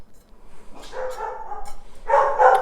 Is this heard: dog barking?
yes